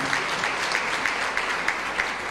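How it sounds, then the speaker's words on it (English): An audience claps steadily for the Director General at a formal public event in Malawi, a dense, sustained round of applause filling the room with no talk over it. "Please, another round of applause for the Director General."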